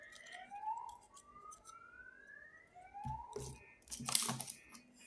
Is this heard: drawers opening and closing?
no